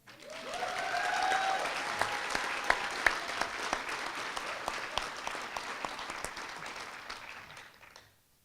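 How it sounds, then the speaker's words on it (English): Sustained audience applause fills a hall at the Minneapolis College of Art and Design fall commencement ceremony, a dense steady wash of clapping with a few sharper individual claps, fading out after about eight seconds. "please join me in a warm ovation for MCAD's Master of Fine Arts graduate"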